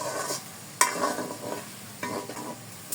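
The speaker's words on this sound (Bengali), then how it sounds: "দেখুন, আলুগুলো খুব সুন্দর করে ভাজা হয়ে গেছে" Potatoes frying in hot oil give a steady close sizzle, broken by a few sharper crackles and stirring scrapes.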